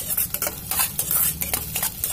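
A spoon stirs a besan mixture sizzling in a pan on a gas stove, giving close scraping strokes in a quick, uneven rhythm over a soft frying hiss.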